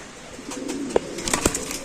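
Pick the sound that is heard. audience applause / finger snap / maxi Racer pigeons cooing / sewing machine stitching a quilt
maxi Racer pigeons cooing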